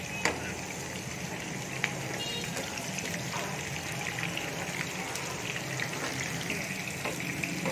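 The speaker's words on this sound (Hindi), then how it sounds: "ज़ीरा डाल रही है 1 टीस्पून के बराबर और अब इसको थोड़ा सा फ्राई करेंगे।" Cumin seeds, about a teaspoon, fry in a pan over raised flame, giving a steady, dense sizzle and crackle throughout with a few sharp pops, close and continuous without talk.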